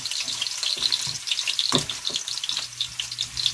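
A shrimp boil being stirred in a pot: steady bubbling, sizzling liquid with soft scraping and sloshing from the stirring, close and continuous, with no voices.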